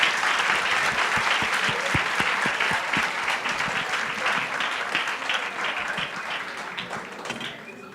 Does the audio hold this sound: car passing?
no